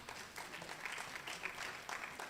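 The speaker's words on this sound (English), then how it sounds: "let's give him a very big round of applause" An audience at an international conference opening ceremony claps in a soft, fairly distant round of applause, a dense patter of many hands that carries on evenly without speech.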